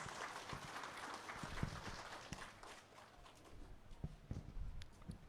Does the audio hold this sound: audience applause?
yes